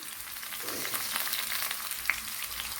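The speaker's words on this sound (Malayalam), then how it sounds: "അതേ പാത്രത്തിൽ തന്നെ കുറച്ച് ഓയിൽ ചേർത്ത് കൊടുത്തിട്ടുണ്ട്. അതിലേക്ക് കുറച്ച് ഇഞ്ചി, അതേപോലെ കുറച്ച് വെളുത്തുള്ളി," Ginger and garlic fry in hot oil in a pan, giving a steady close sizzle with a faint clink partway through.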